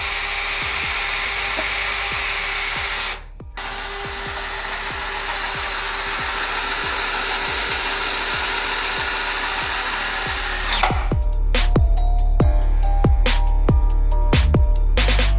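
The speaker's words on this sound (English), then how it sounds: "we are gonna torque the U-bolts" A power drill or impact tool torques the U-bolts on a burnout truck in a garage, running loud and steady for about ten seconds with a brief dip early on, then switching to a rapid rattling hammer of impacts.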